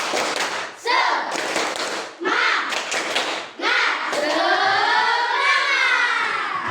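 A classroom group of teachers or students performs a rhythmic spirit clap, tepuk semangat, in bursts of patterned claps separated by short pauses, ending in a longer sustained stretch of clapping and cheering.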